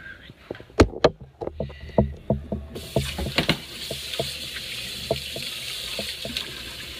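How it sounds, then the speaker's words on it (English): Water runs and splashes as sliced cucumbers drain in a colander, with irregular drips and clatters in the first seconds giving way to a steady rushing flow, close and moderately loud. "So I'm gonna use the colander to drain them."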